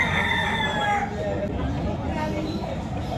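A young gamecock stag rooster, about eight months old, crows at a poultry seller's stall, the call standing out near and loud for the first second over steady crowd noise and talk.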